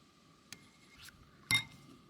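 Utensils clink against a glass or ceramic bowl while sauces are mixed, including sweet bean sauce, oyster sauce and brown sugar: two sharp, quiet clinks set apart in a soft room, with no speech over them.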